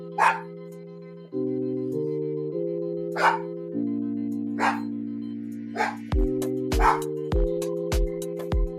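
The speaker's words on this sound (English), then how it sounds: "I apologize for the barking." A dog barks at an indoor live session, sharp single barks spaced a few seconds apart, then a quicker run of yaps near the end, over a sustained electronic tone.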